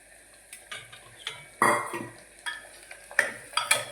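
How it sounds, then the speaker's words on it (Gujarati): Potatoes being added and stirred into a pan for a potato-onion curry: a series of scraping clatters of a spoon against the pan over soft background frying, fairly close. "આ રીતે હવે આપણે બટાકા નાખી દો બટાકા નાખી દઈએ"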